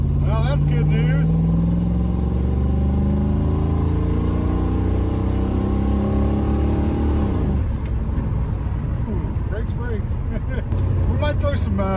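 A straight-piped 1984 Chevrolet Camaro Berlinetta engine accelerates, its loud exhaust note climbing steadily in pitch for several seconds before dropping into a rough, rumbling idle-like drone.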